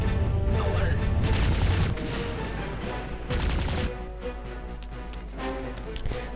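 Gunfire blasting a block apart in the 1997 video game MDK: loud dense crashing and booming for about two seconds, a brief second burst, then quieter rumbling game sound, no one talking.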